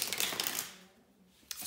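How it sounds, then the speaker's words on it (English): Tarot cards being shuffled by hand up close, a quick dense riffle of papery flutter that fades into a pause before one last soft snap. "let me shuffle the cards"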